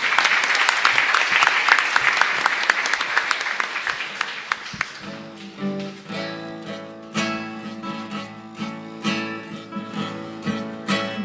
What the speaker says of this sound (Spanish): Un fuerte aplauso para toda la comunidad